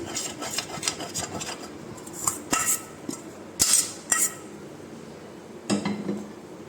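Metal utensils scrape and clink against a plate while semolina barfi is transferred into it, a few sharp scrapes and taps spaced out over quiet background, close and moderately loud.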